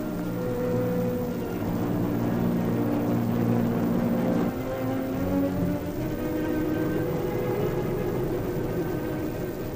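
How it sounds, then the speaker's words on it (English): Reconnaissance planes climbing aloft in a 1939 newsreel of the German invasion of Poland, a steady droning engine roar with tonal hum, continuous and fairly loud throughout with no talking. "First reconnaissance planes go aloft to secure valuable photographic data."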